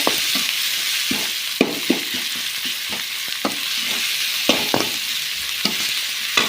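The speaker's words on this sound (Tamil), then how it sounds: "இந்த மாதிரி வதங்கிறதுங்க." Tomato and onion sautéing in a pan, a steady bright sizzle throughout with frequent stirring scrapes and taps of a utensil, no talk.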